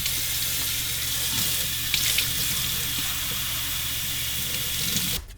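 Water runs from a kitchen tap into a measuring cup in a steady, close hiss that stops abruptly at the end.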